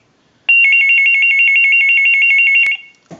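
A Hollywood desk telephone rings steadily for about two seconds, triggered by a line analyzer, its bell loud and close, ending with a sharp click and a brief clunk.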